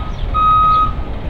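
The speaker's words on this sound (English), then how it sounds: "this guy's driving like a Ford F-150 and it has a reversing beeper" A Ford F-150 pickup truck's reversing beeper sounds a steady electronic tone over low engine rumble, heard alone with no talk.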